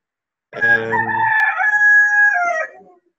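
A rooster crows once, loud and close, a full drawn-out cock-a-doodle-doo of about two seconds with no other sound around it.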